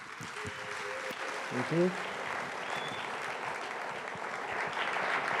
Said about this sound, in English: Thank you so much for that warm applause